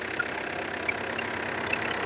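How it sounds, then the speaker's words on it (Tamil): A Tata Indica Vista TDI diesel car engine idles steadily, a smooth continuous hum with a faint rattling texture and occasional small ticks, close and unaccompanied by talk. "இன்ஜின் நாய்ஸ் பாருங்க எவ்வளவு சுத்தமா இருக்கு"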